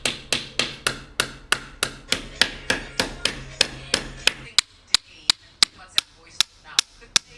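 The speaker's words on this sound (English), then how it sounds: "put some on and then just hammered in some nails anyway, just to secure it" Nails hammered into wooden wall panels during a DIY panel wall build: a long run of sharp, evenly spaced blows, about twenty in all, close and loud, with a faint low hum under the first half.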